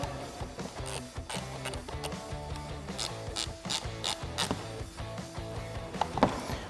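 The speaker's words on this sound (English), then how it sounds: "take my 10mm, tighten it up" Rapid clicking of a 10mm ratchet tightening a nut on a 2015-2022 Dodge Challenger rear bumper reflector lamp, steady close-up pawl ticks with metallic rattles, no speech.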